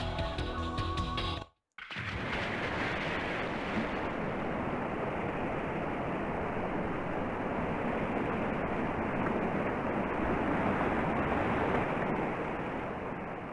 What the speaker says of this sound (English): Alright, we got water sounds.